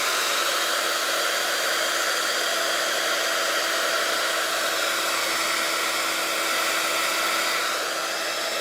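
A hair dryer blowing steadily on freshly painted areas to dry them, a constant close whooshing hum of airflow and motor running without a break throughout.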